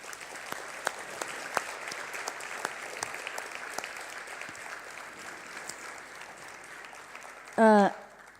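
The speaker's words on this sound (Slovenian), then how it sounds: "mislim, da si zaslužita en velik aplavz" An audience gives moderately loud applause for two guests from Czechia, with steady clapping running throughout. Near the end, a brief voice rises over it.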